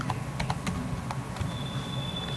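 Rapid clicks of typing on a laptop keyboard, a run of sharp keystrokes in uneven rhythm, close and fairly quiet over a steady room hum, with a faint high tone joining partway through.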